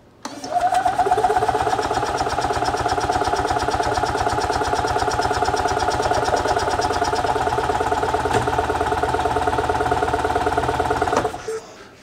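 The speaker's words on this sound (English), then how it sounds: "I'm gonna turn it over a few times and let the fuel pump prime" A Robin EH-29C 295cc engine on an EZGO TXT golf cart cranks over steadily without firing, a rapid even mechanical chugging with a whirring starter that runs unbroken for about ten seconds before cutting off.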